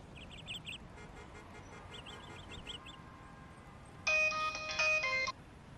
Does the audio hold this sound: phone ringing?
yes